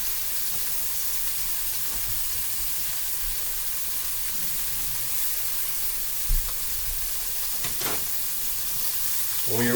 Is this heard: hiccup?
no